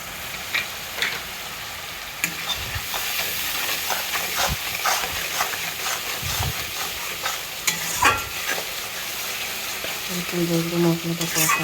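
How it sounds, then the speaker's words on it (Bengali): Spice paste sizzles steadily in a pan as it is sautéed, with repeated scraping strokes of a spatula across the metal and a continuous frying hiss throughout, close and fairly loud with no talking. "মশলাটা কষাবো।"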